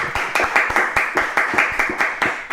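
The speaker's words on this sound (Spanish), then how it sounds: "un fortísimo aplauso" Studio audience clapping in a steady, rhythmic beat to welcome a guest onto a live Spanish-language show, close and continuous throughout with no voices over it.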